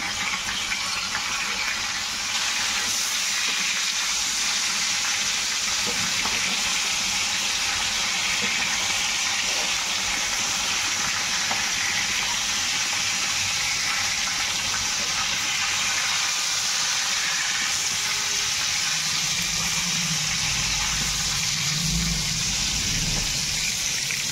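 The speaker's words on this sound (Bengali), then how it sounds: "এর মধ্যে এখন ফোড়ন দেবো জিরা, তেজপাতা, শুকনো লঙ্কা।" Cumin seeds, bay leaf and dried chili are tempered in hot oil for a moong-matar dal with bottle gourd, giving a steady, loud, close sizzling hiss that never lets up, with no talk.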